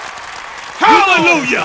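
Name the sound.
round of applause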